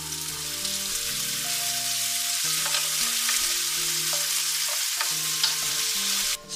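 Green peppers fry in a pan with only a little oil, giving a steady, loud sizzle with crackles throughout and faint tonal music-like notes running underneath.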